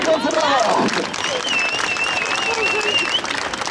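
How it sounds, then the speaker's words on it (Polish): Street-show audience in Wroclaw, Poland applauds a volunteer after an entertainer's act, a dense round of clapping mixed with crowd noise and a high whistle-like tone, loud and close throughout. "Dajcie jej gorące brawa!"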